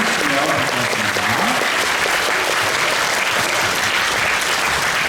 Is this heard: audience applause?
yes